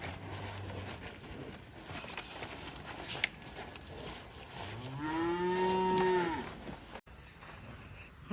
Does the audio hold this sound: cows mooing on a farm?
yes